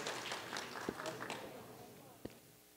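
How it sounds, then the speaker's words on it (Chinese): An audience at a business award ceremony claps together in a dense wash of applause that slowly fades, with a couple of sharper isolated claps near the end. "那如果没有的话，我们就掌声恭喜大家"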